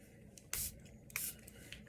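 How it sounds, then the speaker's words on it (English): A spray bottle mists paint onto a surface in two short, soft hissing bursts about half a second apart, close and quiet with no talking. "spray some areas"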